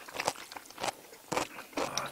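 Crunchy kkakdugi radish kimchi is bitten and chewed up close during a mukbang meal with black bean noodles. A few crisp, moist crunches come in uneven bursts, with soft talking mixed in.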